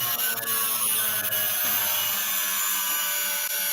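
A spinning bristle disc cleans up jewelry or a gemstone, a continuous close whirring and brushing hum that holds steady throughout.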